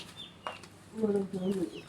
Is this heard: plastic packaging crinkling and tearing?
no